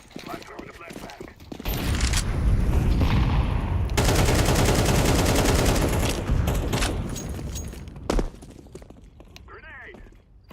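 Gunfire and explosive bursts from a video game firefight as a flashbang grenade is thrown, a dense, loud barrage running for several seconds with a sharp bang near the end and players talking over it.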